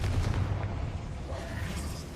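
A Confringo fire spell goes off in Hogwarts Legacy as a deep, booming blast. A dense low rumble fills the short moment and fades slightly as it goes on.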